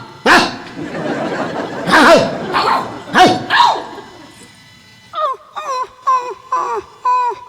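A dog growls and barks repeatedly and loudly up close, a few deep rough barks followed by a run of sharper, higher yelps in quick succession.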